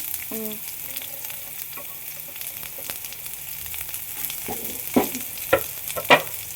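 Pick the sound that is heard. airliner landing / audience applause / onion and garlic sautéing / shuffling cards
onion and garlic sautéing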